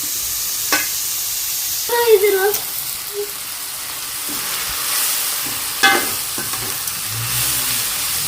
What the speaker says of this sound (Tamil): நல்லா நம்ம வந்து சோறாக வதக்கி எடுத்துக்கணும்